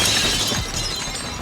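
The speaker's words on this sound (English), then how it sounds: "Rita is sent flying back, crashing through the windows behind her." Glass windows shatter as a body crashes through them in an audio drama, a sudden loud breaking burst followed by scattering, tinkling debris.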